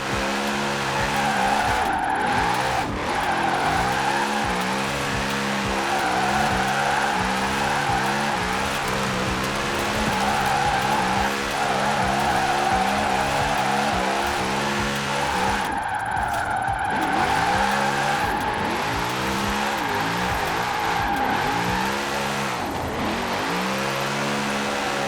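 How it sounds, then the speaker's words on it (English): A Formula Drift car in Forza Horizon 4 slides through long drifts, engine revving hard and rising and falling while tires squeal continuously, loud and close with brief pauses between passes. "That's a Formula Drift machine, so you've got over 70 degrees of steer angle to play with"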